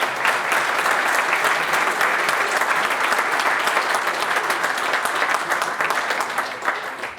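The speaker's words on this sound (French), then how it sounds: "Je vous demande de les applaudir." A crowd at a 2022 Unser Land campaign rally in Alsace bursts into loud, sustained applause, dense clapping filling the hall for several seconds before beginning to thin out at the end.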